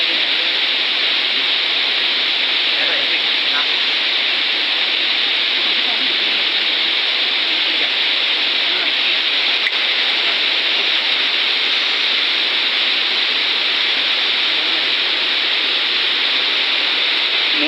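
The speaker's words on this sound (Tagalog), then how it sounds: "Umuulan na guys." Rain pours down in a steady, loud, dense hiss that stays unbroken the whole time, with no voices over it.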